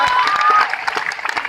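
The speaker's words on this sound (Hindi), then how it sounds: "तालियां" A short, dense burst of applause from an anniversary event crowd, fading quickly after the first half-second into scattered claps.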